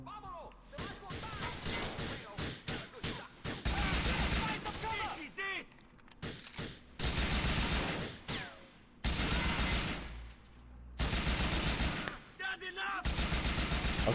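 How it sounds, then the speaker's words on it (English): Repeated bursts of gunfire in a chaotic Grand Theft Auto IV street shootout between random characters, loud sustained volleys broken by shorter single shots and brief pauses, close and heavy throughout. "I think I've caused a shootout in which random characters are now shooting each other"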